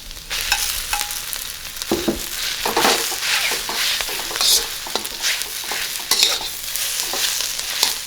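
Day-old rice stir-fried for Spam fried rice, sizzling steadily in a hot pan with repeated scraping and stirring strokes, close and continuous without talk.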